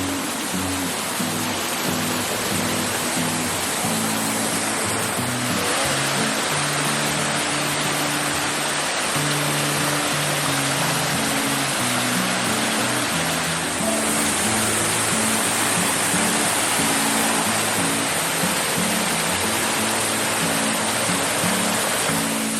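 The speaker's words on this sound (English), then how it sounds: "I'm gonna show you guys another waterfall. It's right here." Waterfall on a hike, a loud continuous roar of rushing water that fills the whole clip evenly, with a faint tonal hum underneath and no talking.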